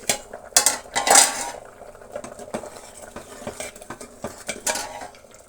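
Steel plate set down over a pot of lentils cooking for sambar, giving a few clattering metal clinks and scrapes near the start, then quieter intermittent knocks over a soft background.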